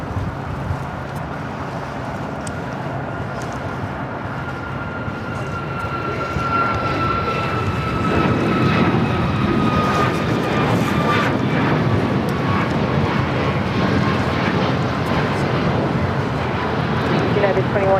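A United airliner takes off from runway 25 right at LAX, heard as a building jet engine roar that swells and holds loud as the aircraft accelerates, with a faint whine above the rumble.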